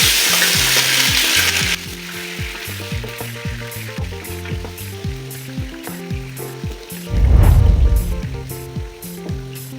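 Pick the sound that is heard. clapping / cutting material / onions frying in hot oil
onions frying in hot oil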